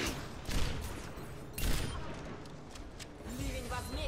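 Sniper gunfire crackles in the video game Overwatch, with a couple of louder shot bursts among broadband noise and scattered game sounds, at a moderate distance.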